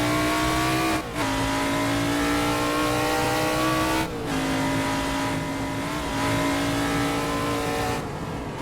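A Formula 5000 race car in Assetto Corsa drones at high revs, with brief dips at roughly one, four and six seconds as it shifts gear, then resumes a steady engine note.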